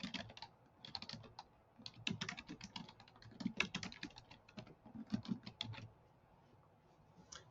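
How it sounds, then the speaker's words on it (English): Fingers type on a computer keyboard, quick bursts of close, light key clicks with brief pauses, fading out near the end. "Right here, we're going to type in the name,"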